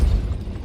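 A Depulso spell cast in the Hogwarts Legacy video game gives a short, deep booming rumble that is loud at first and quickly fades.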